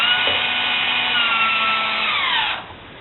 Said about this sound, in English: with these shorter screws, you can't trust the clutch on the drill to stop